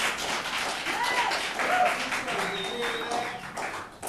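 An audience claps loudly in a legislature chamber, brisk overlapping applause mixed with voices and cheering, with occasional whistle-like tones.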